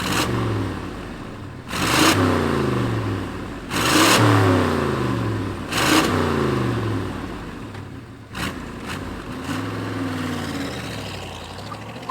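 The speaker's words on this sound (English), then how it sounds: "let's fire this muscle car up, this true muscle car, and hear what it sounds like." A 1972 Chevrolet Chevelle SS big V8 engine barks and revs repeatedly, several sharp throttle blips rising and falling over a rumbling idle, close and loud.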